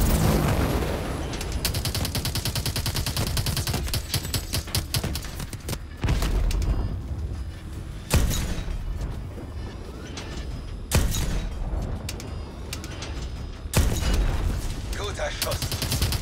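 Rapid automatic gunfire and heavy blasts fill a combat scene in the video game Call of Duty Advanced Warfare, bursts broken by sharp booms, with voices shouting in German over the battle.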